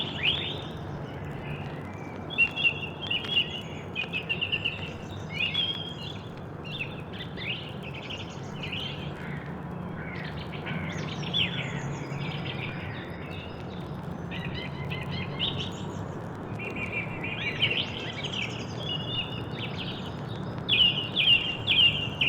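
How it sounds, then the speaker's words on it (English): An April dawn chorus by the Peter Pan statue in Kensington Gardens, London: great tit, carrion crow, song thrush and blackbird calling and singing steadily throughout, many overlapping chirps and phrases over a low distant city hum. "Here by the statue of Peter Pan in London's Kensington Gardens is an April dawn chorus of great tit, carrion crow,"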